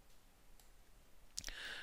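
A couple of quick computer mouse clicks, faint and close, over quiet background hiss while working in After Effects on a computer.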